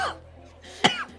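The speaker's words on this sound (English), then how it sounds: "You should not be coughing on the glasses." A single sharp cough bursts out close by, briefly louder than the quiet room tone around it.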